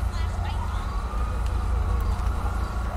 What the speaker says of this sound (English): I can hear an ambulance on the way.